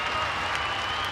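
A capacity crowd at Sheffield Arena applauds through a wrestling event, a dense, continuous wash of clapping and crowd noise filling the whole moment with no pause.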